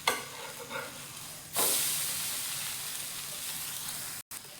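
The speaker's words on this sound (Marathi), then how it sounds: "बघा अगोदर कडा मोकळ्या करून पलटवून घ्यायचं।" An instant breakfast being loosened at the edges, flipped and pan-roasted: soft handling noises, then a sudden louder sizzle as it is turned, hissing steadily before a brief cut.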